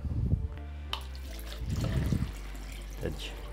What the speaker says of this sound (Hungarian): ezt a vizet leöntöm, és rakok bele frisset